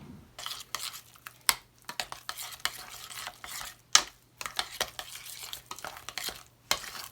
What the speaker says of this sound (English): Just added a touch more milk, a touch more butter, and then we're going to mash potatoes.